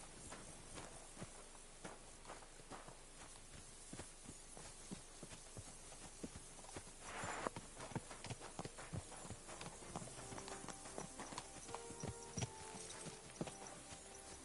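Steady, fairly faint clip-clop of horse hooves walking at an even pace in the video game Kingdom Come: Deliverance 2, with a few soft electronic tones toward the end.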